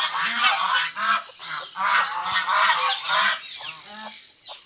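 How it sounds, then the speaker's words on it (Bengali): Six Chinese ducklings, let out of their cage for the first time, call in a steady stream of loud, close honking cries, with brief pauses between bursts. "আমাদের চীনা হাঁসের বাচ্চাগুলো দেখেন"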